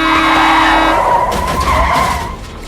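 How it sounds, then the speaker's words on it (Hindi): Sound effect of a car skidding before it hits a person: a loud, close tire screech that rises, holds, then trails off within about three seconds. "एक उल्टी तरफ से आती हुई गाड़ी ने टक्कर मार दी"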